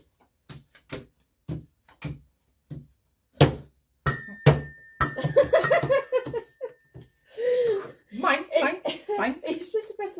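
A tabletop bell pinged repeatedly during a fast snap-style speed card game, with sharp ringing hits amid quick slaps, laughter and chatter from nearby players.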